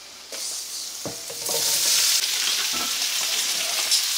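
Potatoes dropped into butter and herbs in a skillet for steak and potatoes, a few knocks and then a sudden surge of loud, steady sizzling close up, with no talking.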